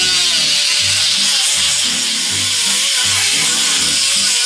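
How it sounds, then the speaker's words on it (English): A variable speed grinder works steadily on fiberglass gel coat, giving a continuous loud abrasive whine with a pulsing low rumble as the disc presses and eases against the surface. "Now this is a variable speed grinder. And I'm gonna go ahead and I'm gonna start grinding this down."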